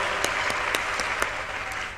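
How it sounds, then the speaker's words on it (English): Applause for the provost, Professor Christopher Aino, at a university programme at ABU: dense, steady clapping from a crowd that fills the whole two seconds at even strength, with a few sharper claps standing out. "A big round of applause for him."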